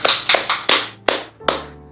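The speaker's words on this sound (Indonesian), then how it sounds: "Beri tepuk tangan untuk Tuhan" A small congregation at an Easter sermon claps for God, a handful of sharp, close hand claps in an uneven rhythm, each ringing briefly before the next, with no talking.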